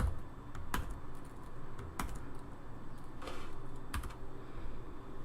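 Keys click on a computer keyboard in a quiet room, a few distinct sharp taps scattered over several seconds with light ambient hum beneath.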